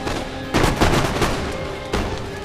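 Musket volleys crackle in a Napoleon: Total War online land battle, with rapid overlapping shots and booms. The firing is steady and loud, and it swells in bursts at the start and again near the end.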